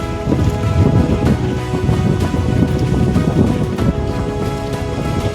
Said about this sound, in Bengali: তোমরা কিন্তু হাওয়ার শব্দ শুনতে পাচ্ছ